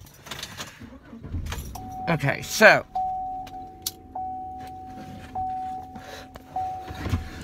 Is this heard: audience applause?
no